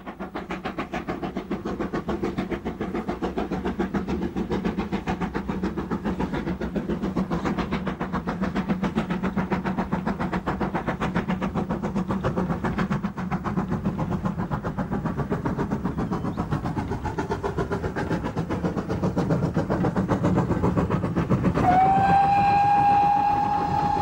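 A GWR steam locomotive works along the Gloucester and Warwickshire Railway with a rapid, steady chuffing and rail rumble, loud and close throughout, and a sustained whistle sounds near the end.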